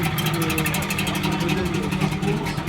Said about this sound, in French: ici vous entendez le moteur